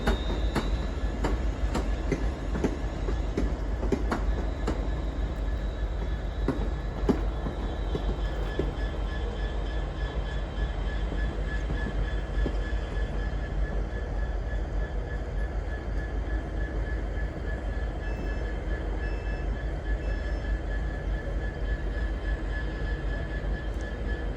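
A British Rail Class 350 electric train moves through Crewe station on the West Coast Main Line, with a steady rumble, clicking wheels and drawn-out squeals and whines, heard from the platform at moderate distance.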